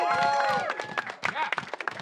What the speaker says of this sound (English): let's give one more round of applause for all the gals who rode out there in the Tords